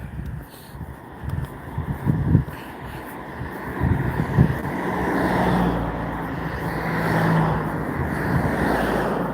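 Evening traffic rolls along a busy road, with vehicles swelling past in waves that grow louder and then fade. Wind rumbles against the microphone, and no one speaks.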